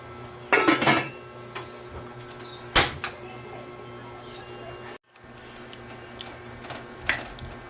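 A lid clatters onto a cooking pot of fish soup with alugbati leaves and salt, giving a few sharp metallic knocks and rattles spread over several seconds in a quiet kitchen.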